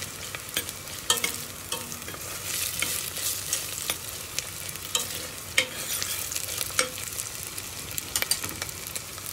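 Chopped onions with a spoonful of tomato paste sizzle in a pan for a potato dish, a continuous crackling fry broken by repeated scraping stirs and spatula knocks, close and with no talk.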